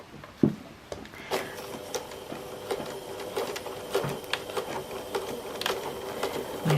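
Sewing machine stitching star points for a quilt, a close, steady mechanical whir with rapid rhythmic ticking, running continuously with a few small knocks and no talking.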